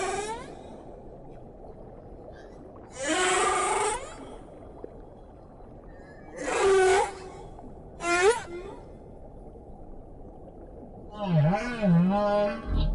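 A male humpback whale sings underwater, with long rising and falling moans and whoops separated by quiet stretches over a low background hiss.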